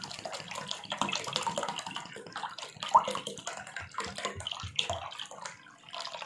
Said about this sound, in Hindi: जो हमने कीनू का जूस निकाला था वो अब हम इसमें मिक्स करेंगे